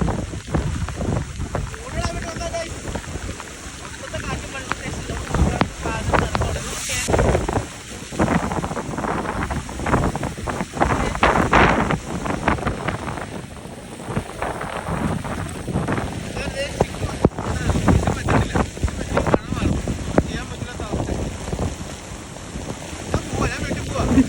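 Wind and rain gusting over a river during a fishing trip at Bhoothathankettu, a steady rough roar of buffeting wind noise with broadband rain hiss running throughout, close and fairly loud with no clear talk.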